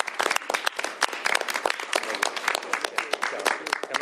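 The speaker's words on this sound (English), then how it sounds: "please give a round of applause for our sponsors on this legislation" Audience clapping for the sponsors at a governor's bill signing, a dense, steady patter of many hands kept up throughout the moment, fairly close and with no voices over it.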